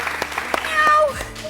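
A man imitates a cat's meow, one brief falling mew rising out of scattered clapping and applause from an audience.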